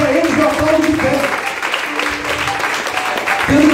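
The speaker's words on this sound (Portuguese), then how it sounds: "Pode aplaudir o nome do Senhor" A church congregation applauds during a sermon, steady clapping rising and falling across the room, with a preacher's voice breaking in over it near the start and again at the end.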